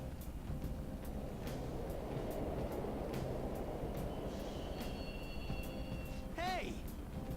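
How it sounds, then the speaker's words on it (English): A subway train in the Persona 5 video game, a continuous low rumble with faint clicks and rail squeals, a rising chime near the end, and people talking softly over it. "the trains are totally running"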